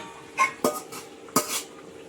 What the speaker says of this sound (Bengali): মাছ দিয়ে ঢাকা দিয়েছিলাম এবার ঢাকাটা খুলে নেব